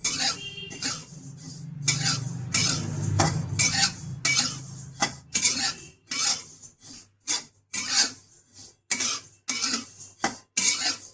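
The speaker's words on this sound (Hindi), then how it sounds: "ऐसा लग रहा है जैसे कि ये सौंफ भुन चुकी है।" Fennel seeds roast in a pan while being stirred, giving a close, repeated dry scraping and rattling in irregular bursts with short pauses, with a low hiss of heat under the first half and no talking.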